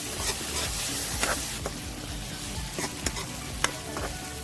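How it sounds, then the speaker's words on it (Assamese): Tomato and spice masala for rajma curry fries in a pan over low to medium heat, giving a steady close sizzle with scattered clicks and scrapes of stirring throughout, no voices. "এতিয়া আমি ল' মিডিয়াম হিটত ইয়াক 5 মিনিটমানৰ কাৰণে ভাজিম।"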